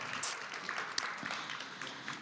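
A democracy summit audience claps for a choir, a fairly soft, diffuse round of applause heard from a distance, steady throughout with a few sharper claps standing out.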